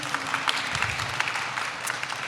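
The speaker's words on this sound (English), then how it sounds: "Let's just give them another round of applause, please." A crowd at the opening program of an Asian Pacific arts festival claps steadily throughout, a dense, even wash of applause with no pauses.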